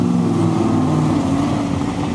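An old car engine runs steadily close by with a low, continuous rumble and slight variations in tone, with no talking over it.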